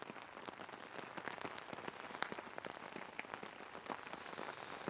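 Steady rain pattering on a surface outdoors during a Halloween overnight camp, a dense continuous hiss of close drops with no one talking.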